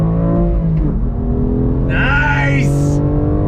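A sports car, either a BMW M2 Competition or a 2022 Toyota Supra, accelerating hard in first gear on track, with a loud, close engine roar shifting pitch and a brief higher whine partway through.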